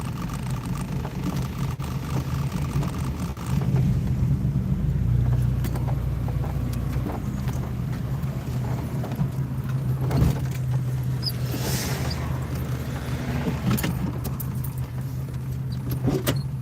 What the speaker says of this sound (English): Leave my car running.